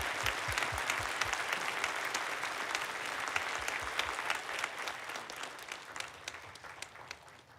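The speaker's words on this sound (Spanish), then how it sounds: "demos la bienvenida al presidente Iman Hee, quien entregará el mensaje con un gran aplauso." An audience at a church gathering applauds to welcome the president as he arrives to deliver a message, a steady dense clapping from many hands that gradually thins and softens toward the end.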